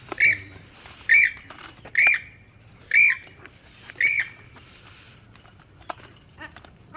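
A pelican squawks during bird feeding at a safari park: five loud, harsh, evenly spaced calls, each a short burst, followed by faint chirps and small clicks.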